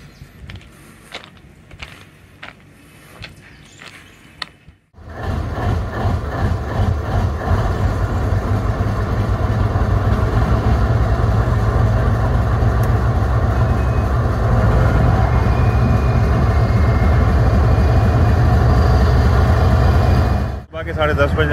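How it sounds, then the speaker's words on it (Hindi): A train locomotive engine, stopped on the line with a hot axle awaiting a relief train, starts up after a few faint knocks, then settles into a loud, steady diesel idle rumble that holds for about fifteen seconds before cutting off briefly. "हमने अपने ट्रेन के इंजन को स्टार्ट कर लिया।"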